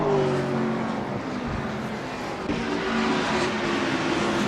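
NASCAR race cars in Assetto Corsa accelerate at a restart at Motegi, a loud, steady roar of several engines revving together with rising tones and a brief shift-like break midway, no talk over it.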